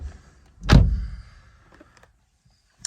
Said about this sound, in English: Let's pull this door.